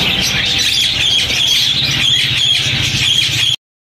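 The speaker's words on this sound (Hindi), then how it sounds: "ये फिंचीज़ हैं, ये भी सारे अडल्ट पेयर हैं, ब्रीडर पेयर हैं।" Finches and Bengalese finches, sold as adult breeding pairs at a Sunday bird market in Bahawalpur, chirp and tweet in a dense, continuous chorus alongside squeaky calls, with faint market noise underneath before the sound cuts off abruptly.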